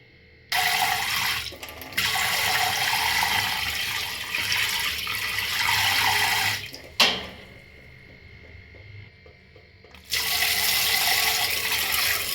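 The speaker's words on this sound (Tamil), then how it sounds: "ஒரு தண்ணிக்கு ரெண்டு தண்ணி அலசி எடுத்துக்க போகிறோம்" Tap water gushes steadily into a container while green gram lentils are swished and rinsed, stops briefly with a few clinks, then the running water starts again.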